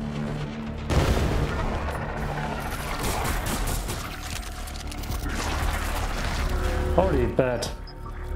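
An explosion in the video game Ripout booms out with a sharp onset, followed by a sustained rumbling, crackling barrage of blasts and gunfire-like bursts under game sounds, with rapid clicking effects near the end.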